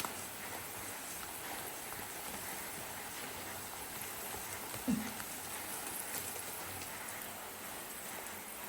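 Steady rain falling outside, a constant hiss of drops with a single brief thump partway through, no talking.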